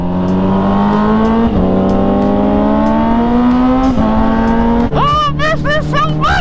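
A Yamaha R1 sport motorcycle screams loudly close by. The engine climbs in pitch through long rising revs with quick gear shifts, then bursts into sharp, rapid high-rev blips as it roars past.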